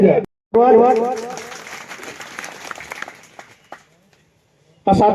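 Guests are welcomed at a village farmers' gathering with a loud burst of applause from the crowd that swells, holds for a few seconds and then fades out, with a voice speaking just before and after.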